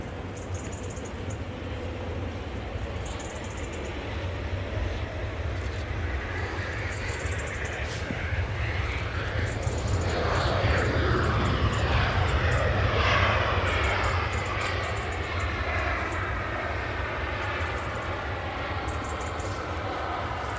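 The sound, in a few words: Ryanair airliner from Brussels arriving at Manchester Airport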